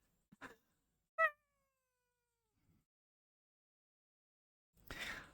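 A person imitates a cat, giving two short meows with a pause between them, followed later by a brief burst of other sound, all fairly faint in a quiet virtual-reality game setting.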